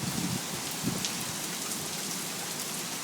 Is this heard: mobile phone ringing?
no